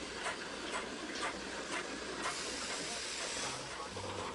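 A steam train chuffs rhythmically with a strong hissing of steam, fairly faint and steady, the puffs repeating roughly every half second.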